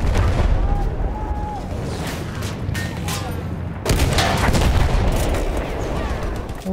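A tank blown apart in the World War I shooter Battlefield 1, a dense roar of explosions and gunfire followed by a sudden heavy blast, with a voice speaking over the din.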